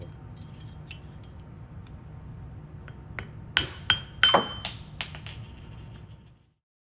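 A hammer taps a seal out of the bore of a Fire Lion Global pump endcase, giving about six sharp metallic knocks in an uneven sequence after a quiet low hum.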